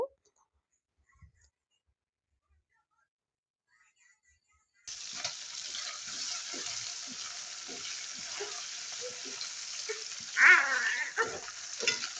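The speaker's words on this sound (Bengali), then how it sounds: "মাছগুলোকে দুই সাইডে খুব ভালো করে ভেজে নিছি" Small puti fish sizzle in a frying pan: after about five seconds of near silence, a steady hiss of hot oil begins and continues, with occasional small pops and crackles close by.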